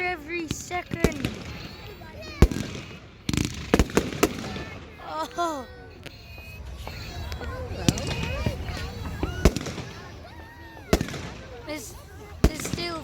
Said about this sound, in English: There's still fireworks going.